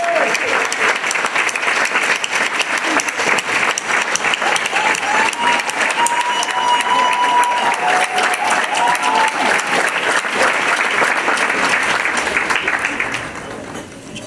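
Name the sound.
audience applause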